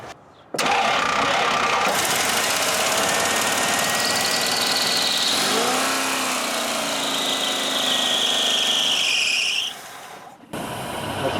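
A Jeep J20 Gladiator truck engine kicks into life and runs steadily and loudly, a high whining belt squeal riding over the rumble before it cuts off abruptly near the end.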